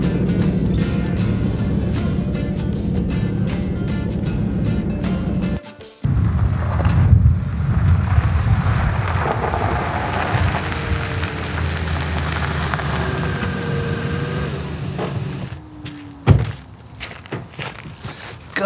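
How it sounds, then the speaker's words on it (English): Strong wind gusting with the start of rain after a Sea-Doo outing, a steady broadband rush with patter and a few thumps close to the mic, broken by a brief dropout, no speech. "It's pretty windy and it's starting to rain."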